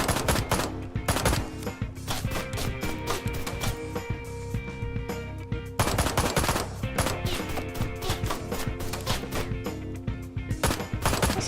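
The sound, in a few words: pistol gunfire in the video game Ride to Hell: Retribution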